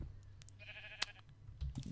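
Sheep in Minecraft bleating, a short wavering bleat rising in the middle over a low background hum, with a few clicks around it.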